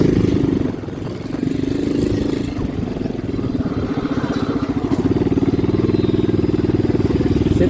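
A motorcycle engine runs steadily close by with a throbbing, slightly rattling mid-pitched drone that dips briefly and then holds firm, with no voices over it.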